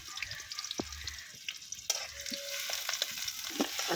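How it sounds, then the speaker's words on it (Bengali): Chopped onion sizzling in a generous amount of hot oil in a pan, a steady close frying hiss with small crackles and a few clinks of stirring. "তো এখন আমি তেলের মধ্যে দিয়ে দিব পেঁয়াজ কুচি।"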